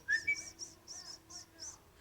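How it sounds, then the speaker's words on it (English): A person whistles a few short, faint notes with quick chirping slides, close by in a quiet room, in brief bursts separated by pauses. "if you want to whistle"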